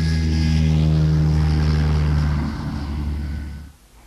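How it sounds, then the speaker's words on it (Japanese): A propeller airplane drones loudly with a steady engine hum, then fades as it passes away overhead. "あれは飛行機です。"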